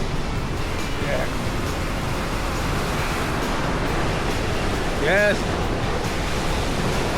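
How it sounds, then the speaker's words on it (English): Atlantic Ocean waves roll and rumble at Rockaway Beach in a steady, dense wash of surf noise, mixed with wind on the microphone, while someone speaks briefly over it. "As you can see, the ocean is rolling, rumbling."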